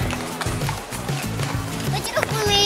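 Horses' hooves clip-clop in a steady rhythm on a paved street in central Krasnodar, heard under ongoing conversation with traffic and city noise around.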